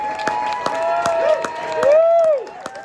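Audience at a club concert applauds and cheers, steady clapping of a crowd with whistles sliding over the noise.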